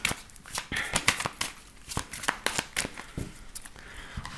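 Tarot cards are shuffled by hand for a reading, a close series of quick crisp riffles and soft slaps in irregular bursts.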